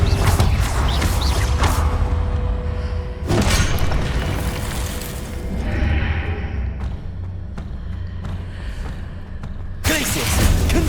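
Confringo fire spell blasts go off during combat in the video game Hogwarts Legacy, with heavy booms at the start and end over a continuous rumble of game sound.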